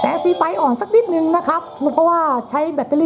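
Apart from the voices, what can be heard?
No everyday noise stands out behind the speech.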